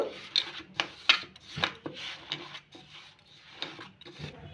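Hands work ghee and baking powder into rasmalai dough, giving soft, irregular rubbing and squishing bursts up close, quiet and unhurried.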